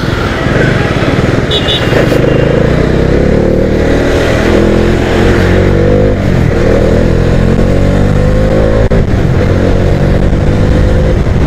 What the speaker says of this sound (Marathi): छानपैकी आपण आपल्या डॉमिनॉरची रपेट आज घेणार आहोत.